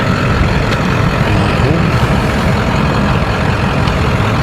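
Corvette engine idling rough, a dense, loud, continuous low rumble with uneven churning and no clear pauses, heard close with background noise and no clear speech.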